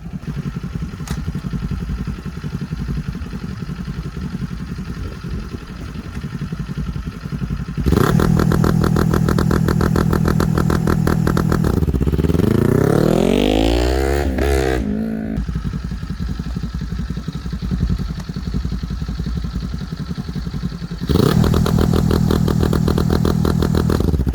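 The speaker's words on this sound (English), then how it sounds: "I'm going to launch it, let out the two-step." A Kawasaki Z400, Ninja 400 or Yamaha R3 motorcycle with two-step launch control idles, then pops and crackles on the rev limiter, launches with a rising roar as it pulls away, and returns to a loud burbling rev.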